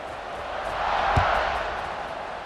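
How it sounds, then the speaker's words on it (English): A stadium crowd in the college football video game EA Sports College Football 26 keeps up a broad, steady buzz of massed voices, swelling a little at the middle, with a brief low thump. "this crowd is buzzing after that last score"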